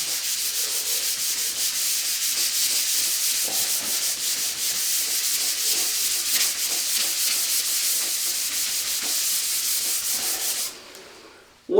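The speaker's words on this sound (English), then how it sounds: "I'm just going to lightly abrade this panel" A painted panel is lightly abraded by hand with sandpaper before priming, a steady close, hissing scrub that runs for about ten seconds with quick rhythmic strokes and then stops abruptly, followed by a brief thump.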